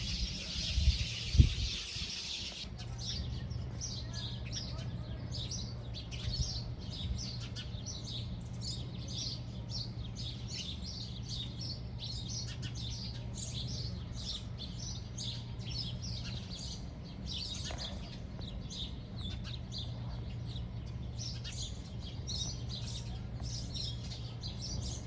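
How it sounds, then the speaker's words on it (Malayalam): Small birds chirp and tweet continuously in a fruiting tree at morning camp, a dense overlapping chorus of short calls at moderate distance, with a steady low hum underneath and a brief bump near the start. "അപ്പോൾ മൊത്തം കിളികളാണ് ഇതിനകത്ത് മൊത്തം."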